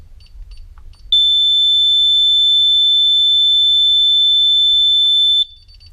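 A loud, piercing piezo siren on a DSC PowerSeries NEO alarm keypad holds steadily for about four seconds during the exit delay, a single shrill electronic tone, close by.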